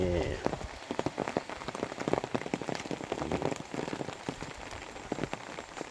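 Steady rain falls on a surface near a covered pavilion in a rural Thai garden with orchids, a dense, continuous patter of drops with sharper nearby splashes throughout, no voices.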